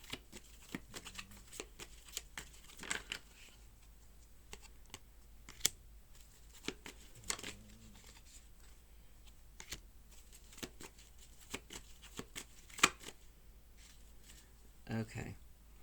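Tarot cards being shuffled by hand in close, quiet riffles and soft slaps, with intermittent rustling bursts and card taps separated by pauses, and a voice speaking faintly at times.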